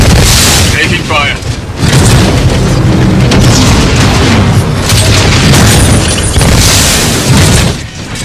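Titanfall 2 combat: dense, continuous gunfire and booming explosions fill the whole stretch loudly, with a game voice speaking over the heavy battle noise.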